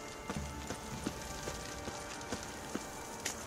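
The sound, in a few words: horse hooves clip-clopping in the video game The Witcher III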